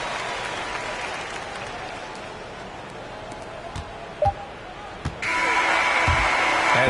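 Steady arena crowd roar from an NBA 2K23 basketball game runs throughout, with a few sharp thuds and a brighter, louder surge of cheering near the end.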